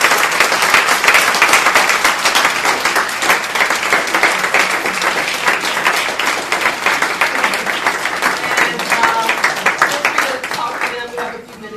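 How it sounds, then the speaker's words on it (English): A crowd at a hip-hop and youth-vote event applauds the guests, loud dense clapping sustained for several seconds before gradually thinning out. "I'd like to ask you for a round of applause for our guests."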